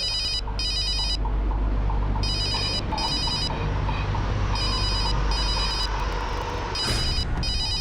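A phone rings in repeated electronic bursts, pairs of trilling rings with short gaps, loud over a rumbling background of traffic or machinery.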